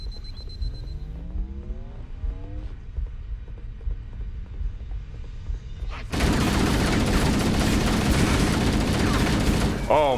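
Gunfire in the video game Halo CE: a steady loud wall of rapid shots takes over midway, after a quieter stretch of game tones and sweeping sounds.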